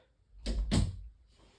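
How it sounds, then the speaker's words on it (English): A room door is pushed shut in two quick thumping impacts close by, followed by a soft fading rustle, with no talking. "Let me close the door just to drown out the noises in the background."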